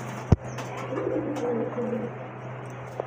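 Pigeons coo in a low rolling burble mid-clip, close by, with a sharp knock near the start and steady low background hum.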